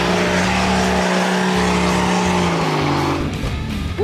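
A 4WD drifts across a slippery high-country track, its engine revving hard and holding a steady note while the tires scrabble and squeal, loud and close, with the pitch rising near the end.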